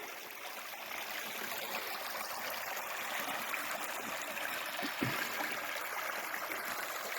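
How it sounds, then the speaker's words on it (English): A small brook flowing through Talladega National Forest in the Cheaha Wilderness, a soft, steady trickle and gurgle of running water heard alone at low volume. "we've been following this little brook here for a little ways"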